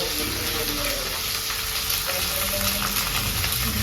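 Cumin seeds frying in hot oil in a Bengali home kitchen, a steady, close, loud sizzle that crackles without pause throughout, no talking.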